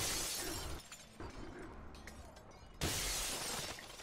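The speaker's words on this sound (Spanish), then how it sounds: "estos cristales no paran de hacer ruido, tío" Glass shattering in the video game Killzone Shadow Fall, two bursts of breaking glass with a crunchy tail between, fairly faint within game noise.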